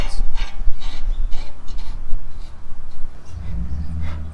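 Lug nuts being tightened on the front wheel of a 2013 FJ Cruiser during a brake rotor upgrade, a run of close ratcheting, clicking wrench strokes followed by a low mechanical hum near the end.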